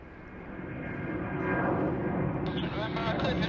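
A Qantas 516 airliner at Sydney Airport roars steadily, the engine noise swelling gradually and holding at a moderate distance, with a voice talking faintly over it.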